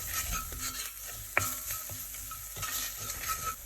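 Tomato chutney mixture with chili powder and green chili stirred in a pan, a soft steady sizzle with scraping strokes and one sharp clink of the spoon against the pan, no voices.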